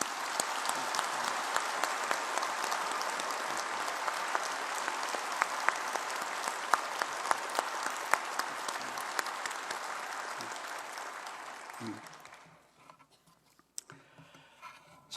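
A church congregation applauds the choir and orchestra, a sustained wash of many hands clapping at an even level before fading out near the end, leaving near silence with a few stray sounds.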